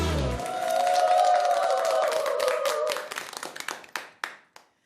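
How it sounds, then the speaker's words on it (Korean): Audience claps after a song on a Korean senior music show, a full round of applause with a lingering musical tone underneath, then tapering into a few scattered, separate claps before silence. "잘 불렀습니다 박수"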